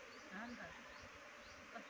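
Honey bees buzzing around a hive box at a new home, a steady, faint insect drone with a few louder passes close by, continuous throughout.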